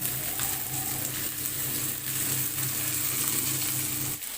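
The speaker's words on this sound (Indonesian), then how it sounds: "Goreng hingga matang." Bird's eye chili, curly red chili and shallots fry in hot oil for a homemade Indonesian sambal, giving a steady close sizzle that runs throughout with faint stirring and no talk.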